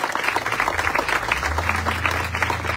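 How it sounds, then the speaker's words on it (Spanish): A crowd applauds loudly and steadily at a municipal government event in Villa de Álvarez, dense clapping continuing for a few seconds before cutting off. "Fuerte el aplauso para todos ustedes, fuerte el aplauso para nuestra presidenta municipal."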